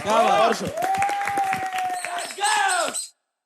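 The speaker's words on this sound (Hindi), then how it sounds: "अपने खुद के लिए ताली बजाओ यार" People on a reality game show finale clap for themselves, quick scattered claps running beneath loud, excited voices and shouts that dominate before cutting off abruptly.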